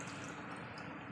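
Water pours steadily into a cooking pan while fish is being cooked, a continuous close splashing and bubbling rush with no pauses.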